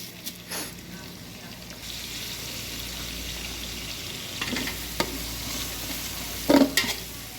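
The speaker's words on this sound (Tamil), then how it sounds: "நல்லா ஒரு கிண்டுங்க" A spoon stirs biryani masala as onions sauté in a pot, with a steady sizzle and occasional scraping clinks, close by and with voices speaking faintly at times.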